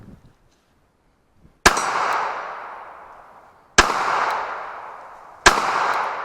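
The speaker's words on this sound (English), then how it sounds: "We're going to do first shots with the triple diamond sights" Three sharp, loud shots from a Glock 42 pistol, spaced roughly two seconds apart, each leaving a long fading ring.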